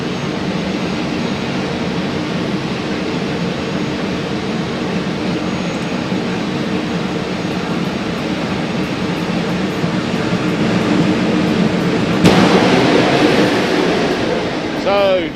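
A jet dragster run at Santa Pod Raceway, a continuous loud roaring jet engine wash heard from a distance that builds and surges sharply near the end, with commentators talking over it throughout.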